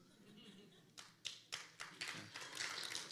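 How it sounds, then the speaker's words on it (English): A light smattering of applause from a small audience, a few scattered claps that start sparse and thicken into brief uneven clapping, fairly close. "light smattering of applause"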